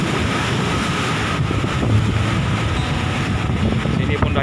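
Rough monsoon-season sea surf at a beach at Tanjung Lobang, with heavy waves roaring continuously under strong gusting wind buffeting the microphone, while a person speaks faintly beneath the noise.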